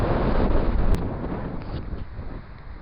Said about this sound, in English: The wind's so strong here.